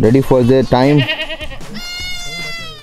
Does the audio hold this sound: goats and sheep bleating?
yes